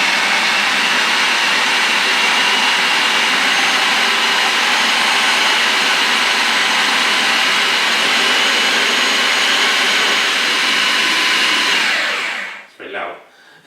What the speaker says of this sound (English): now I'm going to blend it up with just some soy milk for liquid